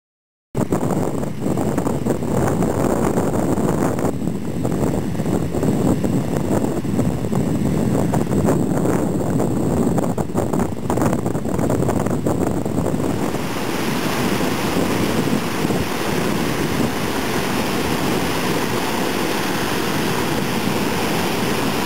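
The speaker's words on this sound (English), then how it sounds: "we discovered this hidden waterfall just off the highway." A steady, loud rush of a waterfall in Banff National Park roars continuously with gusty wind noise, the tone shifting slightly partway through.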